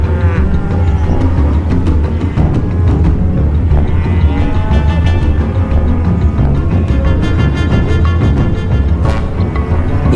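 Cattle in a vast feedlot low and moo continuously, many animals overlapping at once in a dense, loud chorus with a steady rumbling background.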